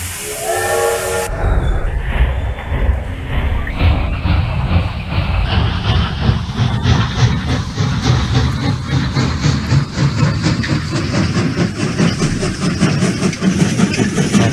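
In the video game Escape Mr. Funny Toyshop, a train ride opens with a brief sharp whistle, then settles into a loud, continuous rumble with a rhythmic chugging clatter and hiss.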